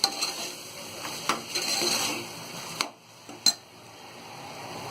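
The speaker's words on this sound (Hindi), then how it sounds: "नमक डाल के अच्छी तरह हम इसे चला लेंगे।" A spoon stirs salt into roasted sambar spices in a pan, giving close scraping and brushing strokes with a few sharp metallic clicks against the pan, fading to near quiet between strokes.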